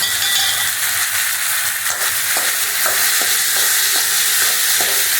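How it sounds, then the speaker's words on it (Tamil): Manathakkali (black nightshade) berries sautéing in a pan for a kara kuzhambu, with a steady loud sizzle and regular scraping stirs of a spoon against the pan, no voices. "இப்போ நம்ம மணத்தக்காளி காயை கொட்டிக்கலாங்க. கொட்டி ஒரு 2 நிமிஷம் வதக்கி விட்டால் போதும்."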